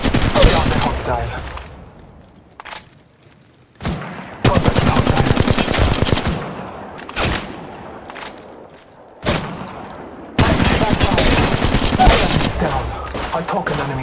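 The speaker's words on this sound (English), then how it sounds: "Shots fired, and they're hitting me." A Spitfire light machine gun fires in Apex Legends Mobile in long, loud, rapid automatic bursts separated by short gaps and single shots, with in-game voice callouts occasionally heard between volleys.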